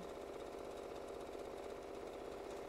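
A sewing machine stitches napkins with a steady, fast mechanical whirr and rapid needle chatter, continuous and fairly close without pauses or talking.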